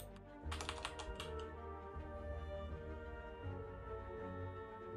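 Typing on a computer keyboard during a live-streamed session of Slay the Spire and Monster Train, with steady clicking keystrokes over a continuous background of game music and ambient hum.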